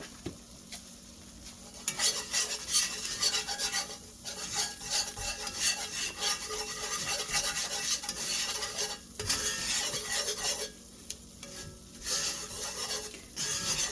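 Flour scraped and stirred around a hot pan for white gravy, a steady rasping, scratchy stir with a faint sizzle underneath, continuous and close with brief pauses between strokes.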